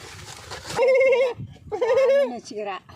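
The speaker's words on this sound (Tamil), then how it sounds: "சின்ன ஆட்டுக்குட்டி கூட ஓடி வந்துருச்சு பாரு" Young goat kid bleating twice, close and clear, each cry wavering and drawn out, following a moment of background voices.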